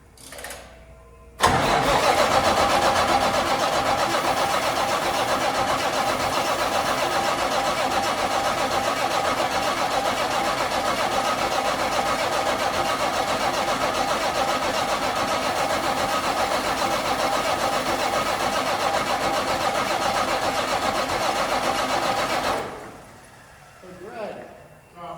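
A truck engine cranks and catches, then runs at a steady, loud idle for about twenty seconds before shutting off, with brief voices at the start and end.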